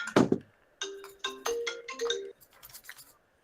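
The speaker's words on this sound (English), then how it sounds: "Jerome's getting a call." A phone ringtone sounds for an incoming call, a short melodic electronic tune of bright stepped tones in several bursts, following a sharp knock at the start and fading to quiet at the end, with no voices.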